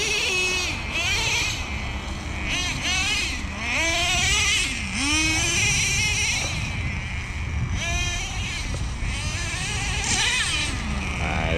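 Traxxas Nitro Revo 3.3 RC truck tearing around an offroad track, its tiny nitro engine screaming loud and close, pitch swooping up and down through rapid throttle bursts and shifts, wind noise throughout.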